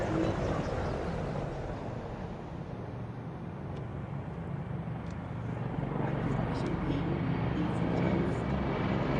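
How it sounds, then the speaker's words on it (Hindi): Indian Air Force aircraft flying past in formation at the Republic Day parade on Rajpath, New Delhi, a continuous roaring engine drone that swells slightly toward the end, with a commentator talking over it. "the heartbeat building up as the Indian Air Force presents its flypast"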